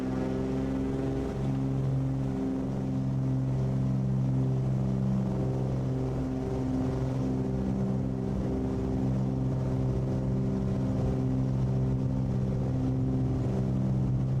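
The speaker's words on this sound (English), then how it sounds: "we're just going to go ahead and come on up to full throttle here" The twin engines of a Cessna 414 at full throttle in a flight simulator game, a loud steady droning hum holding an even pitch throughout.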